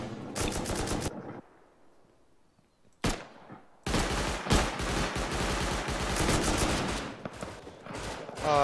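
M249 machine gun fire in the game Rust: a dense burst of rapid automatic shots, a pause of quieter ambience with one sharp crack, then a long, loud sustained stream of fire.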